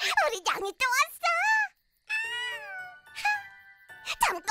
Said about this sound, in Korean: 우리 냥이 또 왔어.